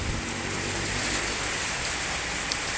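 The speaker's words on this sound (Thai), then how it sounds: "ฝนมาแล้ว" Steady rain pours down in a dense, even hiss, drops pattering continuously on surfaces with no voices heard.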